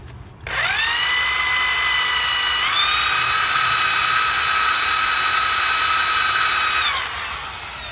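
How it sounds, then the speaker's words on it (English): A blunt drill bit bores into metal on a Ford Escort, a loud, steady high-pitched whine that starts abruptly, shifts up in pitch partway through, then cuts off near the end, with no talking. "Or the drill is blunter than you might think."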